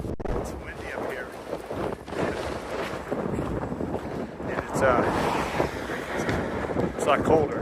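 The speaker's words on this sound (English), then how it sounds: "It's windy up here." Wind gusts buffet the microphone on an exposed hilltop along the Allegheny Trail, in uneven rushing surges that swell and fade, with a person speaking intermittently beneath the blustery noise.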